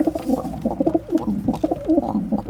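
Pigeons cooing in soft, repeated throaty phrases, close by and fairly steady, with overlapping calls and no talking.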